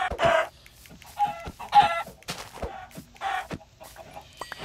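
Minecraft chickens cluck repeatedly in short bursts at moderate volume, with no talking.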